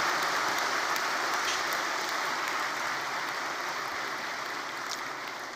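A large gathering at Shantivan gives loud, sustained applause in welcome of the Prime Minister, a dense steady clatter of many hands that holds from start to finish without pause.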